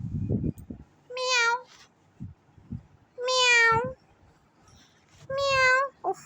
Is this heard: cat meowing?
yes